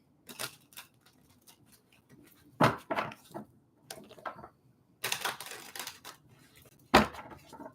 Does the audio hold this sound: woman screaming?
no